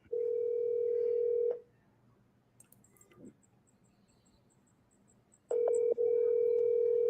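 A phone call rings out over a speakerphone in a room, with two long, steady ring tones separated by a quiet gap, loud and close, with faint small clicks in between.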